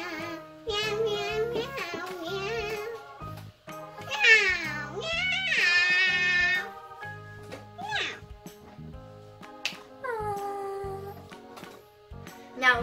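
A Melissa & Doug toy cat from a pet treats play set sings a tinny, electronic meow song, with repeated melodic meows in bursts over a simple tune, fairly close and moderately loud.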